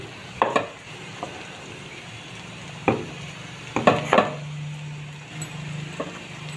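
Onions frying in a pan for a Bengali bhetki fish-bone chorchori, a soft low sizzle broken by several sharp knocks and scrapes of a spatula against the pan, close and quiet with no talk.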